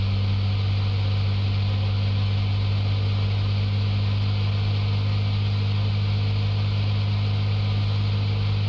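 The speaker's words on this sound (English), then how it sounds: "You have a very loud engine" A loud car engine idles steadily in a police simulator video game, with a deep, constant rumble and hum, no talking over it.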